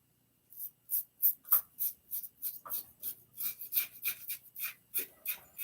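An old razor blade scrapes across lathered stubble in repeated short strokes, a crisp rasping pattern of about a dozen close, distinct passes with brief pauses between them.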